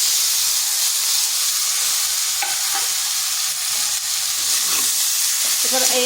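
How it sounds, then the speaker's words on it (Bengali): Shredded cabbage tipped into a pan of frying potatoes for a vegetarian dish, giving a steady, close hiss and sizzle of hot oil with occasional stirring scrapes and clinks, and no talking. "দিয়ে দিচ্ছি কপিটা।"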